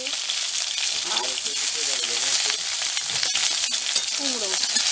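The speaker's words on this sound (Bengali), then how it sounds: "এবার এই সবজিগুলো সব একটু ভেজে নিচ্ছি।" Eggplant, taro and pumpkin fry in hot mustard oil in a wok, giving a loud, dense, continuous sizzle close by, with faint stirring clatter and a little background voice.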